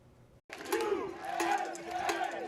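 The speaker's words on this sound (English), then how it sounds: "thousands of people were down at Rady Shell watching the game and cheering on Team USA" Large crowd of thousands at the Rady Shell outdoor venue in San Diego cheering on Team USA during a World Cup watch party, with a roaring wash of shouts and yells building after a brief silence.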